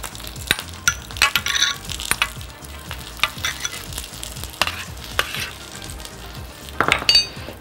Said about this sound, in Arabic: تعالوا بس نقلب البتنجان ونكمل.